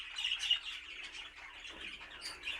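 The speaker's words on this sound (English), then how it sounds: "let's have a look at some of the birds that were on show at the Oxford 1910 Cage Bird Society annual members show" Cage birds at a society members' show chirp and tweet in a busy overlapping chorus, fairly faint and alone, with short bright calls scattered across the few seconds.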